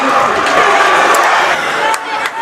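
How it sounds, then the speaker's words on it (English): A raucous high school varsity boys' basketball crowd in a packed Portland gym roars after a three-pointer, a dense, loud wall of cheering and yelling that holds steady for a couple of seconds before dipping slightly. "So the crowd is raucous here after that three-pointer by Niksoni Bushiri."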